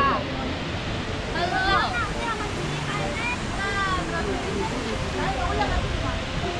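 Steady broadband rush of falling water at a waterfall in Ithaca, New York, fills the clip, with excited voices calling out over it now and then.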